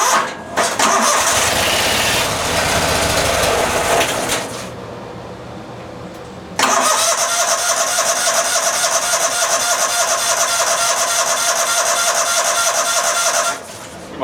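A Kohler engine on a Massey Ferguson 2818H mower that had been sitting turns over, briefly cuts out, then fires and runs steadily at a loud, close mid-pitched idle.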